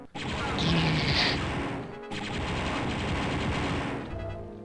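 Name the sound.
gunfire in the video game Star Wars Dark Forces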